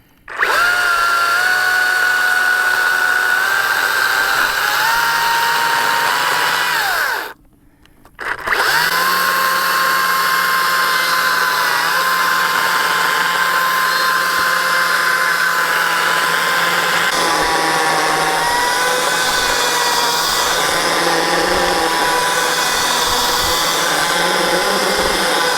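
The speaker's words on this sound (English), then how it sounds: "cut it halfway square with my chainsaw. I put a new blade on my 14-inch Makita" A 14-inch Makita chainsaw with a new chain cuts through salvaged railroad ties, a loud sustained whine that dips briefly mid-cut before roaring on steadily.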